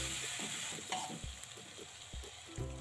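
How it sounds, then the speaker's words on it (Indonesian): Spice paste sizzles and fries steadily in a hot pan for Indonesian home cooking, with repeated scraping stirs and occasional clanks of a utensil against the pan. "Tumis bumbu hingga harum."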